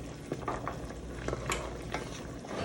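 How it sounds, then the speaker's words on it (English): Jambalaya being stirred in a pot, with scattered soft scrapes and clinks of a spoon against the pot over a steady low sizzle, close and fairly quiet. "Give this a good stir."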